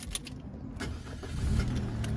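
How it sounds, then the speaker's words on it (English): A 2020 MG MG3 Core hatchback cranks and fires up, a brief starter whir followed by the engine catching and settling into a rising idle, close by and alone. "Give the car a quick start now."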